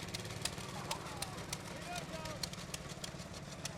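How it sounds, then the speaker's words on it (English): Early stationary engines chug steadily in a rural heritage fair parade, a regular putt-putt beat with rhythmic clicks heard at a moderate distance under talking. "Some of the early engines there."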